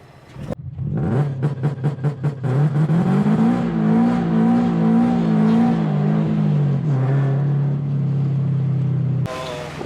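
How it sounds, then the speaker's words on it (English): A supercharged Subaru BRZ on new tires launches hard with traction control off. The engine rises in a loud, sustained rev that climbs, wavers and holds steady before cutting off abruptly near the end. "The car still spins a little, but it grips a lot more."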